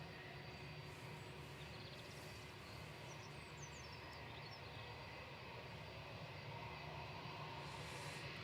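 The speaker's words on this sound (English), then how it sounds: "The A350 800 Neo of Kuwait Airways is just about to cross over the channel." Engines of a Kuwait Airways Airbus A350 near Manchester Airport give a continuous, even broadband rumble at a distance with a faint high whine, and no talking.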